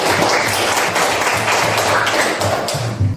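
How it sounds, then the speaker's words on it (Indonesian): Classroom applause after a student group's presentation on paired dance, with dense clapping spread over thumps and taps from students close by, continuing steadily. "Nah, tepuk tangan untuk"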